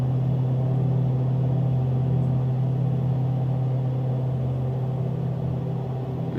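A Piper Seneca PA34 twin-engine propeller aircraft in Microsoft Flight Simulator drones steadily, with a loud, even low hum throughout and no talking.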